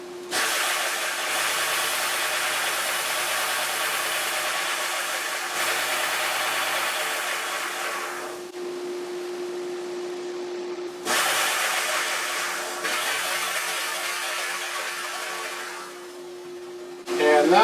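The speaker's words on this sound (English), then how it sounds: "I'm just going to turn that dust collector on" Workshop dust collector roars with a loud, steady broadband rush and a constant hum. It dips briefly and surges back partway through, then swells again at the end, with no talking.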